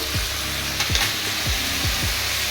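Cumin, ginger and chili paste sizzling in a hot pan, a steady broadband frying hiss running throughout with a few low knocks, likely from stirring.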